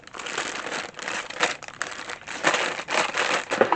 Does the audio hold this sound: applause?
no